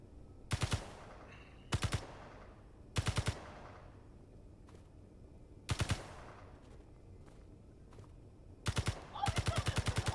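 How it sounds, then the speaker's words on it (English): Video game gunfire in a zombie-shooting game plays in the background, short bursts of rapid automatic fire recurring every second or two with quiet gaps between, ending in a longer sustained burst; fairly faint and distant. "they're shooting at zombies"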